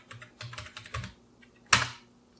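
Typing on a computer keyboard, close, with a quick burst of several keystrokes followed by one louder key press, likely Enter, then quiet.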